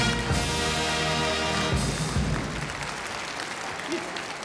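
A Cologne carnival audience breaks into applause over fading music, and the clapping carries on as the tune drops away.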